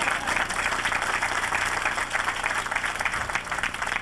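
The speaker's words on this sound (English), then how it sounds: "why don't we give a big round of applause for our drivers?" A crowd at a 1993 farm show applauds the equipment drivers, dense, even clapping from many people sustained for several seconds, fairly loud and unbroken by talk.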